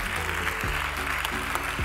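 Audience applause at a 2023 FIPSAS medal ceremony for Italian national team athletes: dense, steady clapping throughout, over low tonal sound, with faint voices.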